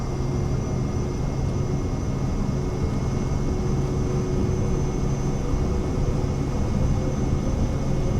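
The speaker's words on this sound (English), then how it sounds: "Go ahead and give the aircraft full speed, and we're going to get back on that center line right now." Aircraft engine at full power in Microsoft Flight Simulator 2024, a loud, constant drone with a steady tonal whine that stays unchanged throughout, heard alone.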